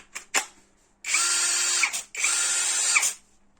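A WORX 20V cordless drill driver whirs in two sustained bursts of about a second each, close and loud, after a few short clicks, with a quiet pause between bursts and no talking.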